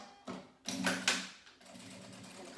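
A home sewing machine stitches a backstitch at the corner of a fabric zip pouch, giving short mechanical runs of whirring that stop, start again and end in a steady low hum, all close and fairly quiet.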